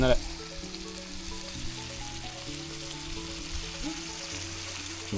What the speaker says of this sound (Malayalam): അപ്പോൾ കരൾ ഫ്രൈ ചെയ്യുന്നതാണ്